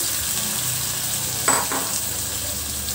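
Onions fry loudly for a chicken curry as tomatoes are added. A dense, steady sizzle fills the whole clip, and a short burst of stirring or splashing sounds about halfway through. No one speaks.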